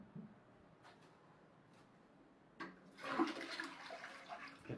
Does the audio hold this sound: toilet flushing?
yes